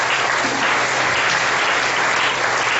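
A church congregation breaks into sustained applause honouring the word of God, a dense, steady wall of clapping that fills the whole moment without pause or talk.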